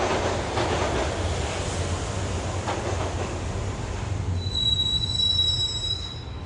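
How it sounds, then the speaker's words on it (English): A subway-style train ride in the mobile game Max Payne Mobile, bound for Roscoe Street Station: a steady low rumble of rolling carriages, then high metallic wheel squeals ring out near the end. "the train doors had already shut behind me, and I was in for the ride"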